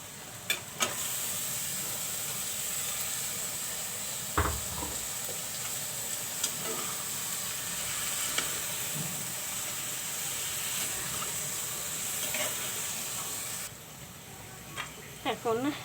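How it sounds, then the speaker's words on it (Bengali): Eel fish frying in a pan with tomato, a steady low sizzle running throughout with occasional stirring clinks and scrapes, close and moderately quiet, with brief talk over it. "আমি এখন মাছগুলো দিয়ে দিব। বাইম মাছ দিয়ে দিচ্ছি।"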